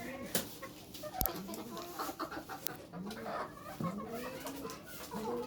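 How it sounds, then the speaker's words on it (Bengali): Chickens clucking close by in a backyard coop, several overlapping cackles and short calls repeating throughout at moderate volume. "এই হলো আমার মুরগি, যারা এই যে খাওয়ার ছিটিয়ে একদম নষ্ট করে রেখেছে।"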